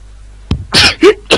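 A single sharp sneeze-like burst from a nearby person, followed by a couple of short vocal bursts.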